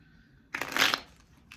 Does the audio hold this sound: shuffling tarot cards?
yes